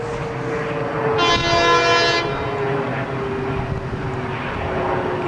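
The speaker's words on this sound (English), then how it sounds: "Okay, you don't need to blow your horn that loud." A freight train horn blasts loudly at a station platform, one sustained chord of about a second over the heavy rumble of the passing train, which keeps rolling on alone afterward.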